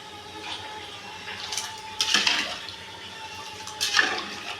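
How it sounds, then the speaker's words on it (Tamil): Salt being stirred into ghee rice in a pot, heard as two short scraping, swishing bursts of the spoon against the rice and pan, with quiet gaps between them. "இந்த உப்பை போட்டுக்கலாம். போட்டுட்டு நல்லா இப்போ ஒரு கிண்டிக்கலாம்."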